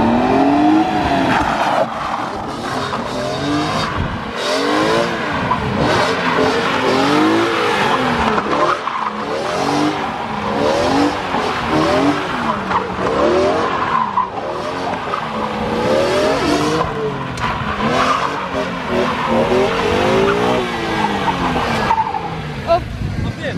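An E46 BMW M3 slides around a track, engine revving up and down in repeated sweeping rises while tires squeal, loud and continuous, with people talking over it from inside the car.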